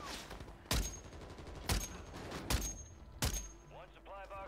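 A high-recoil gun fires in the video game War of Duty, with four loud, sharp shots spaced about a second apart, and a voice talking briefly near the end.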